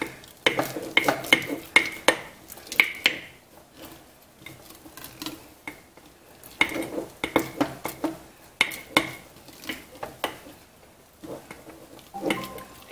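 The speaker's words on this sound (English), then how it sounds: "I really want a good mix because I want to make sure that it gets mixed in with that already fermenting starter" Flour is stirred into a fermenting sourdough starter in a container, with repeated scraping clicks and taps of the utensil against the sides in uneven bursts, close up with short pauses between and no voices.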